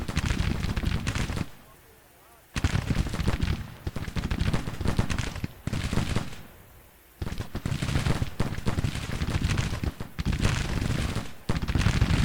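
Sustained Civil War gunfire rolls through a Grand Tactician battle, dense crackling volleys and scattered rifle shots filling most of the stretch, broken by two brief lulls before the firing swells again loud and continuous.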